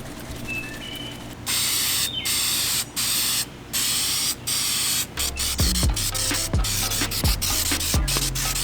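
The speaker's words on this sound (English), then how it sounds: "Here's the clear coat that I'm using." Clear coat sprayed onto custom Chevrolet Silverado headlights sounds as several close, loud aerosol hisses in separate bursts, followed by a few sharp knocks and clicks of handling.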